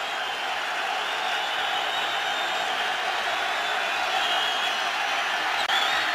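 Steady roar of a large NFL stadium crowd at a Lions–Giants game, loud and continuous throughout, building on a third-and-nine play with no break in the broad wash of voices.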